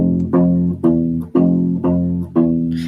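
A U-Bass plays the Westworld theme as a repeating octave pattern, six plucked notes in an even rhythm, each with a round, sustained low tone, close and clear with no voices.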